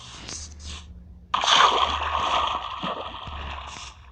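Splashing water from a waterfall in a Minecraft Lifeboat Skywars parkour game, a faint trickle at first, then a sudden louder rushing, gurgling splash that continues steadily to the end.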